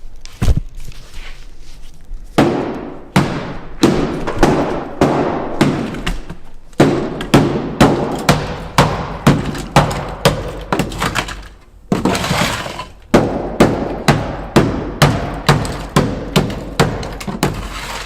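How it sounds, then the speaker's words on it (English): Rapid, repeated sharp hammer blows striking dry-ice-frozen sound deadening in a BMW E46 engine bay, loud and close, in long rhythmic runs with a couple of brief pauses. "We're gonna hit it with the hammer and see if the tale is true."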